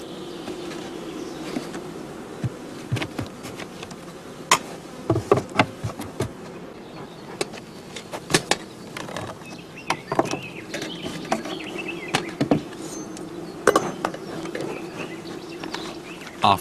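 Honeybees buzzing at a hive during queen introduction, a continuous low hum with frequent sharp close buzzes and taps as individual bees pass near, no voices.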